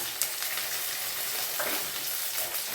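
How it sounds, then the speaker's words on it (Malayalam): Okra frying in a pan with shallots, ginger, garlic and slit green chillies, giving a steady, close, continuous sizzle with faint stirring scrapes and no talk. "അതിൻ്റെ വഴുവഴുപ്പ് പോകാൻ പാകത്തിന് അത് വറുത്തെടുക്കണം."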